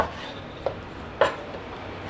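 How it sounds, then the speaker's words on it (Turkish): A knife chops fat off meat being prepared for kavurma: three or four sparse, sharp strikes over a low steady background hiss, with no talking. "şöyle yağlarını da doğrayalım"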